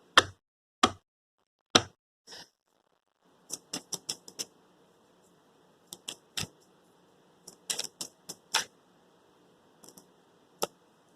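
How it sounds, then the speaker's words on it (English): Tarot cards being shuffled by hand with a broken nail give sharp, close clicks and snaps in scattered clusters, separated by near-silent gaps. "I'm trying to shuffle these cards, but my nail is broken in half."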